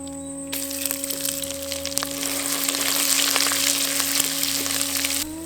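Curry leaves and ginger-garlic paste fry in hot oil for a sweet mutton tamarind curry, a loud close sizzle that starts abruptly, holds steady with small crackles, then cuts off; a low steady hum runs underneath.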